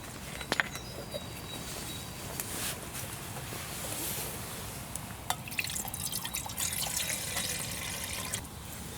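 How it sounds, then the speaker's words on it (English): Water pours and trickles into a Swedish mess kit pot outdoors at an overnight camp, with scattered drips and small metallic taps over a steady soft splash, close by and moderately loud. "Just put the water in there"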